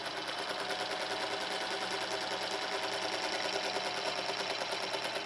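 A sewing machine stitching a quilted pillow cover, a fast steady mechanical whirr with even rapid needle clatter, close and continuous for the whole stretch with no talk.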